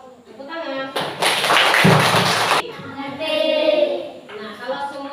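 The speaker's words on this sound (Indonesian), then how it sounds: "Tepuk tangan" An elementary school class clapping hands together in one brief, loud burst, with voices speaking before and after it.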